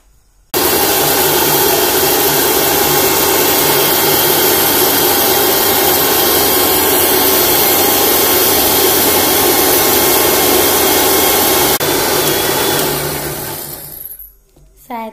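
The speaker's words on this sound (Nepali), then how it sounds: "मिक्सरमा पिस्नको लागि।" A kitchen mixer grinds mustard seeds, ajwain, timur and cumin, whirring loud and steady for about eleven seconds before it winds down and stops.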